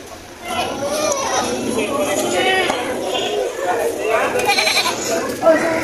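Quality native goats at a livestock market bleat now and then amid a busy crowd, with people chattering and talking throughout.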